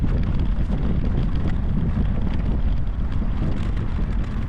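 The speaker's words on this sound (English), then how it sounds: "finally one time the wind is pushing me forward" Steady, loud wind roaring across the microphone while cycling a 40 km route near Utrecht in the Netherlands, a continuous low buffeting rush with no break and no talking.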